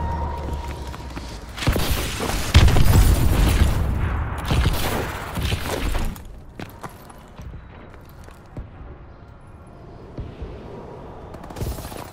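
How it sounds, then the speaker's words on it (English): Missile strike explosions in the Call of Duty: Advanced Warfare video game, a loud cluster of booms and rumbling blasts for several seconds that then fades into quieter distant battle noise with scattered pops. "Friendly missile strikes inbound."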